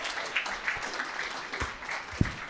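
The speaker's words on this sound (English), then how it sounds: "Let's give her a hand." An audience at a Books & Brews author event in a bar applauds a speaker, with dense clapping and a few sharp louder claps across the whole stretch.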